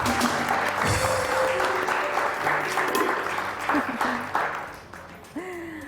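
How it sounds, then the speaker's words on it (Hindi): An audience applauds for the host's son Ibrahim on the Satrangi show: a full round of clapping, steady and fairly loud, with voices talking and some tonal sounds mixed in, fading near the end. "तो भाई एक दफा मेरे प्यारे बेटे इब्राहिम के लिए बहुत सारी तालियां।"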